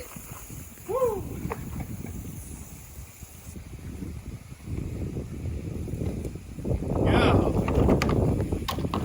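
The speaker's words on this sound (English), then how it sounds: "That wind is rough." Wind rumbles across the microphone outdoors beside a 2015 Nissan Pathfinder, low gusty buffeting that swells louder toward the end, with a brief spoken word and a short whistle-like sound early on.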